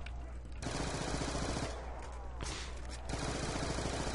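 A submachine gun fires in rapid continuous bursts in Call of Duty Die Rise zombies mode, loud and close, with brief pauses between sustained volleys.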